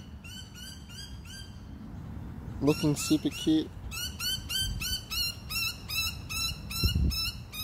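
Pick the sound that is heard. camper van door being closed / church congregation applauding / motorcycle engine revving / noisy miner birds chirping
noisy miner birds chirping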